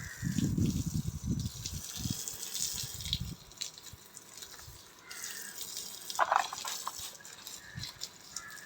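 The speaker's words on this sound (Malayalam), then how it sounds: "നമുക്ക് ഇതൊന്ന് ഫുള്ളായിട്ടൊന്ന് ഓസിട്ടൊന്ന് കഴുകാൻ" Water from a hose sprays over a muddy bicycle during washing, with uneven splashing bursts and trickling runoff nearby that rise and fall as the stream moves across the frame.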